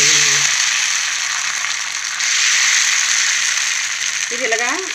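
Plain dosa batter sizzles on a hot pan with a steady, bright crackling hiss throughout, while a voice speaks briefly at the start and again at the end.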